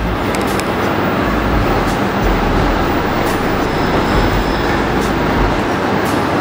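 A train passes close by as it slows into a curve, a loud continuous rumble of wheels and carriages with faint metallic squeals riding over the steady roar.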